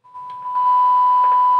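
A steady 1 kHz test tone from a signal generator, passed through a TYT TH-7800 radio under repair, holds as one continuous pure beep throughout, with faint background hiss and no speech.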